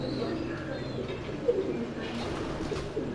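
Soft pigeon coos from a handled breeder pigeon, low and murmuring, heard faintly beneath someone talking nearby.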